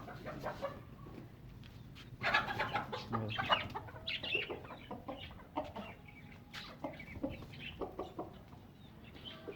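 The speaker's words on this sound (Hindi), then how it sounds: "इस वाली मुर्गी को भी खोल देते हैं।" Chickens being let out of their pen cluck repeatedly at close range in a busy run of short calls, fairly quiet overall, with no talk over them.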